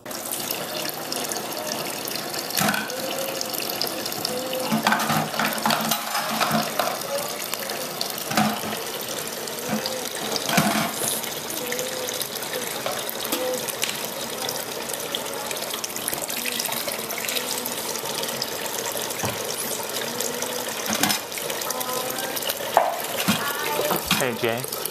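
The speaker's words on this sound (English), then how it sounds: "Are you washing dishes?" Tap water runs steadily into a kitchen sink during dishwashing, a constant close splashing rush with faint clinks of dishes throughout.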